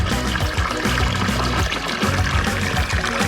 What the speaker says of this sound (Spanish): Después encontramos la Fuente de las Sirenas del siglo XVIII.